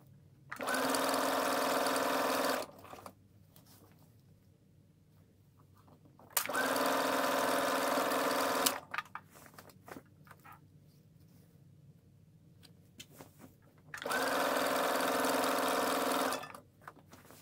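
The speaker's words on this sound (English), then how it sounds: "So I'm gonna sew all around the cutting" A sewing machine stitches around an ironing board cover fabric in three steady bursts of rapid whirring, each lasting about two seconds, separated by quiet pauses with faint handling noises, close and clear.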